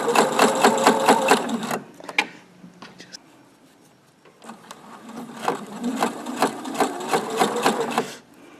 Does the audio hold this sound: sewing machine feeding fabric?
yes